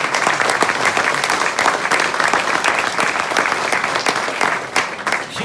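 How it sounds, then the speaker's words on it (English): A theatre audience at a Broadway performer's show gives a loud, full round of applause, dense overlapping claps with occasional sharper hand hits, steady throughout with no voices on top. "please give her a round of applause."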